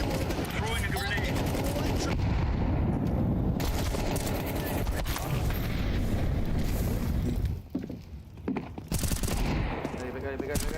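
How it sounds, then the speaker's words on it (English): Continuous rapid gunfire and bursts during a Counter-Strike 2 grand final match between FaZe and Vitality, with a grenade going off amid the shooting and a caster talking excitedly throughout. "Throwing a grenade."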